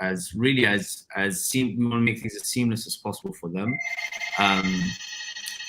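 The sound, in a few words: telephone ringing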